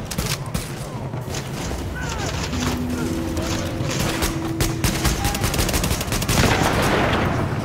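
Rapid automatic gunfire from a weapon in the video game The Division beta, Medical Wing mission, rattles in a dense, near-continuous stream with scattered game effects and voices mixed in.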